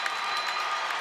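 Hockey arena crowd of about 5,000, mostly Maverick fans, applauding a no-goal call for goalkeeper interference at a Minnesota State vs. Michigan Tech game; a steady, dense wash of clapping and crowd noise with no letup.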